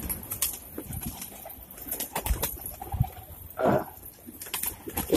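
Domestic pigeons are let out of their loft, with scattered wing flaps, rustles and soft cooing at close range, including one louder fluttering burst. The sounds come in irregular, uneven bursts.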